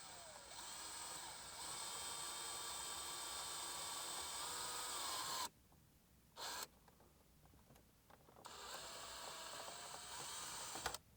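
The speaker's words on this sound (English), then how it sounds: "I'm just going to drill through the spacer" A high-pitched power drill whines continuously while drilling through the dash of a 5th generation Toyota 4Runner, cutting out briefly twice before resuming, close and steady with no talking.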